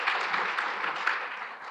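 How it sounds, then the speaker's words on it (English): An audience at a Blockchain Africa Conference panel gives a brief burst of applause, a dense patter of many hands clapping at moderate distance and fairly faint, lasting under two seconds. "That deserves a round of applause"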